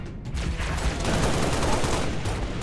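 Dense, sustained gunfire from the video game Halo: Reach, with rapid overlapping shots and bursts rolling on loudly for the whole stretch, no one talking over it.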